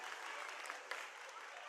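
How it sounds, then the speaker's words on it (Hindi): Audience at a school annual function applauding young Olympians, a dense, even wash of clapping from a large crowd that sounds distant and faint, with a murmur of voices mixed in. "Let's give our young Olympians a huge round of applause"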